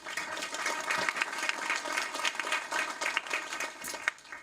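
Sustained applause from a crowd at a regular board meeting, steady and fairly loud clapping throughout, recognizing a list of honorees.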